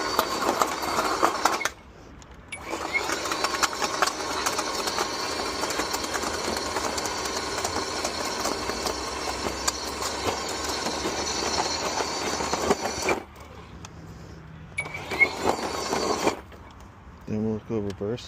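EGO Power+ cordless earth auger boring into the ground at low speed, a sustained motor whir and churning scrape that runs for long stretches, stops briefly, then resumes, with a voice talking over it at times.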